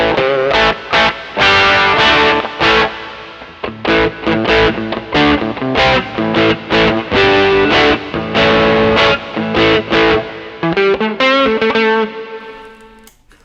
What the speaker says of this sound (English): let's go back to like a zero effects, maybe some reverb, and let's go to like the crunch sound